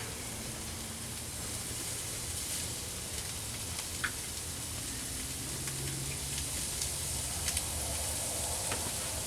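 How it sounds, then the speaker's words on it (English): Stuffed burger patties sear on a 550-degree grill, giving a steady, fairly loud hiss and crackle that runs unbroken throughout with no talking. "that searing sounds good."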